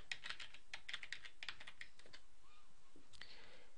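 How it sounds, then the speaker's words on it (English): Computer keyboard typing of a user ID and password: quick, light key clicks in irregular bursts, close and fairly quiet, with no talk. "wherein you enter your user ID and password"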